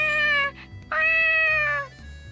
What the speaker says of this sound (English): A light brown cat spotted with white emerges from a nearby clump of bushes.